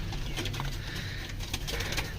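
A golden pigeon of a flying breed cooing close by, soft low repeated coos in a room with faint background noise.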